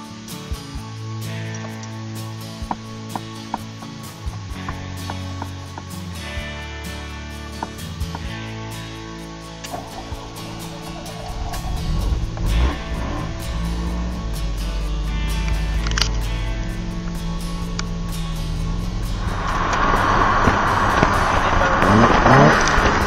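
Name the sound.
Alfa Romeo 33 key inserted in ignition, engine starting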